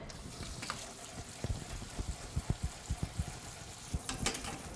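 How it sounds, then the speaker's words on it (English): Soaked organic soybeans are rinsed under running water in a strainer, giving a close, steady hiss of water over the beans with a quick series of light knocks and rattles. "And I'm just going to give them a rinse."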